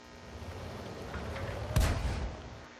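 A Matilda IV tank in World of Tanks fires its cannon on the Ruinberg map, a single loud, sharp boom with a brief rumbling tail over a low engine drone.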